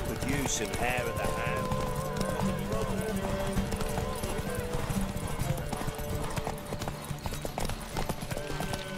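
Horse Roach gallops in The Witcher 3, steady rapid clip-clop hoofbeats with an occasional whinny, running under game music and a voice calling out to the horse.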